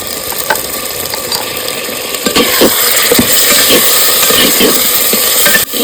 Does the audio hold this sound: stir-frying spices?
yes